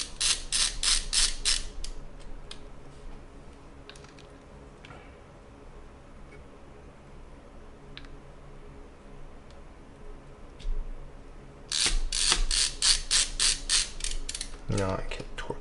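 A screwdriver ratchets as screws are tightened into an MSI RTX 3070 Ti Gaming X Trio graphics card, with loud rapid clicking bursts at the start and end and quieter ticks and handling noise in between.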